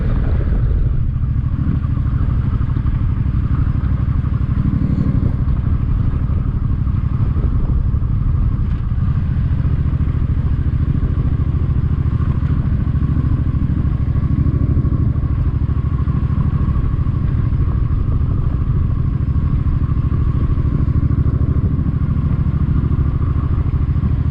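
A Suzuki M50 motorcycle engine runs close and loud for the whole stretch, a steady low rumbling idle with mechanical clatter and slight fluctuations in revs.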